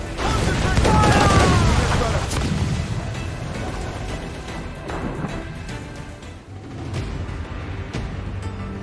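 Ship cannon fire in Assassin's Creed IV Black Flag: a loud booming volley near the start, then scattered thuds and rumbling blasts fading under a steady battle din, with voices calling out in the background.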